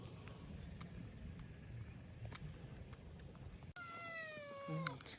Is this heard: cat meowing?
yes